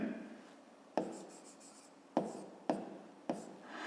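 A pen scratches across paper close up and quietly, with a few sharp taps where strokes begin, during a math exercise.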